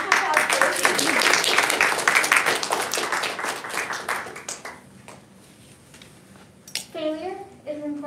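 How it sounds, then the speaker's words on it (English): An audience bursts into loud clapping for a speaker at a class talk event. The applause fades away after a few seconds and is followed by quieter room sounds and a brief voice. "Round of applause for Izzy."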